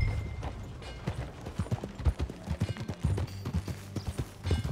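Steady clip-clop of horse hooves at a walking pace in the video game Red Dead Redemption 2, moderately quiet, with a faint mechanical rattle in the background.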